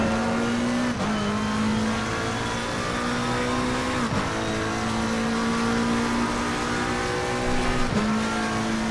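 A McLaren 720S GT race car in Assetto Corsa Competizione screams through a lap at COTA, its engine holding a high steady drone with three sharp upshifts spaced a few seconds apart, loud and continuous.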